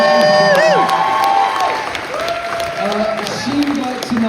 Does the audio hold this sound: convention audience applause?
yes